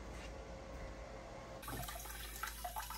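A faint low hum gives way to water pouring and splashing into an axolotl aquarium, steady and close.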